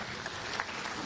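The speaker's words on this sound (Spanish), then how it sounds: "Está conmigo el doctor Pedro Luis Espinosa, a quien les pido un fortísimo aplauso." Brief burst of audience applause for a speaker at a private education conference, a faint, even patter of many hands heard from a distance.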